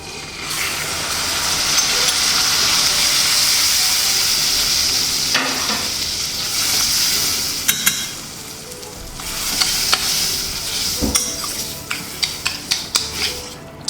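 Pepper and diced blanched tomato sizzle and fry steadily in a pan for arrabbiata sauce, a loud continuous hiss broken near the end by several sharp scrapes and knocks of a utensil stirring against the pan, with no talking.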